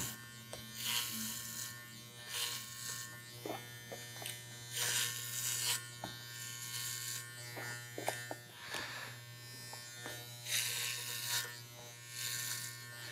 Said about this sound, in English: working with the clipper in my hand like this, making sure that my hand is underneath the clipper, lifting up, coming up and out.